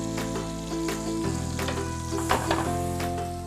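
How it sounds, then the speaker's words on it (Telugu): Garlic sizzles in melted butter in a pan, a steady close frying hiss with occasional spoon stirs and light clinks, moderately quiet and without voices. "ఇక్కడ వెన్న కూడా కరిగింది కదా, ఇందులో వెల్లుల్లి వేసుకుందాం."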